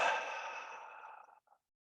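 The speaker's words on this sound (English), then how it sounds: "then exhale through your mouth" A person lets out one long, soft exhale through the mouth after holding their breath, gradually fading out, with a small final puff of air at the end.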